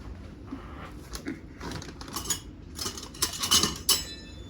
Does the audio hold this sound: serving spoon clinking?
yes